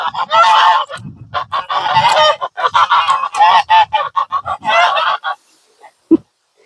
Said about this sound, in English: the geese like to yell at us when they come out in the morning